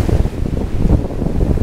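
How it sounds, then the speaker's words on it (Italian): Strong wind roars against the microphone on a seashore where light-tackle fishing is under way. Waves wash steadily underneath, loud and continuous, with no talking. "questo vento"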